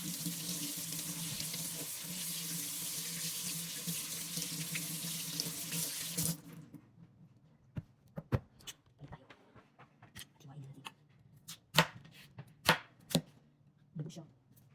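Tap water runs steadily into a kitchen sink for several seconds during washing, loud and continuous, then stops and gives way to scattered clinks, knocks and handling sounds of dishes.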